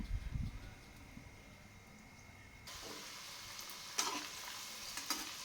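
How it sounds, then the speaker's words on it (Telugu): Dried broad bean seeds for pakoda frying gently in oil on a low flame, with a soft, steady sizzle that brightens halfway through and is broken by a few sharp stirring clatters. "సిమ్ములో ఫ్రై అవ్వాలండి ఇవి."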